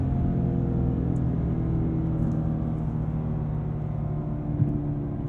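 A Cadillac CT5-V Blackwing drives under load, its engine a steady low rumble and whir heard from inside the cabin, continuous and fairly loud with no speech.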